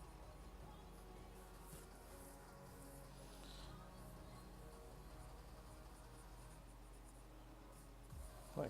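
A pencil sketches on paper, making a faint, continuous close scratching that runs steadily under a quiet background hum.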